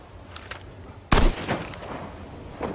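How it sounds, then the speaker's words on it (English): A single sharp sniper rifle shot in a video game cracks loudly and close, followed by a ringing decay and scattered distant gunfire over a quiet background. "I just got sniped."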